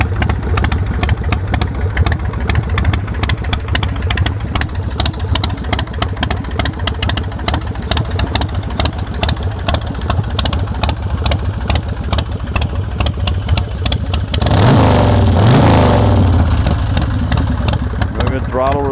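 A Swift bar chopper motorcycle engine fires up, then idles with a steady loud mechanical rumble close by, before a revving burst near the end that rises and falls in pitch.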